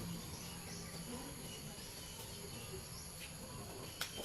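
Crickets chirp steadily in the surroundings, a faint continuous insect drone with a soft background hum and one brief click near the end.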